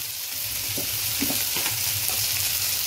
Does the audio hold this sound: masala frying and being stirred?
yes